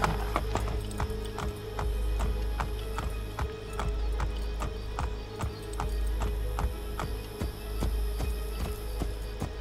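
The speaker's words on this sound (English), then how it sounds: "the ability to ride your horse into town" Horse hooves clip-clop at a steady walking rhythm while riding into town in the video game Assassin's Creed Brotherhood, fairly close and alone over a low ambient hum.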